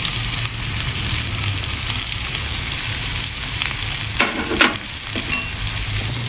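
Chili pieces fry in hot oil for tempering in a cauliflower dish, a steady loud sizzle that runs throughout with brief bursts of sharper crackling and spattering toward the end.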